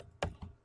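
A couple of quick keystrokes tap on a computer keyboard while a value is entered, two soft clicks close by in a quiet room.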